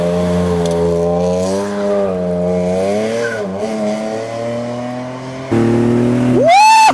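A BMW E46 M3 drives hard, its engine note rising and falling through the gears at close range, with a brief lift and a sharp tyre squeal near the end.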